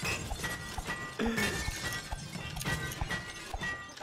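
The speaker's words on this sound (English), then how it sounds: "smash these glasses for me, will ya?" Glass objects shatter and smash in the video game It Takes Two, a series of sharp crashing and breaking impacts with tinkling debris, fairly quiet and without talk.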